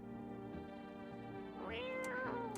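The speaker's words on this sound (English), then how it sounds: "Pet the cat." A cat meows twice in the video game No I'm Not A Human, rising, drawn-out calls over a quiet, humming game background.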